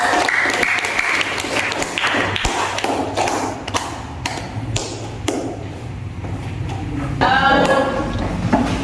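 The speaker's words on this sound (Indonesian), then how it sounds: "kita beri tepuk tangan dulu" A classroom full of people applauds after group presentations, steady clapping that holds for several seconds and swells slightly near the end, with no voices over it.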